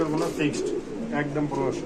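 Large pigeons kept for sale coo in low, throaty, repeated phrases close by, overlapping one another while a person talks in the background.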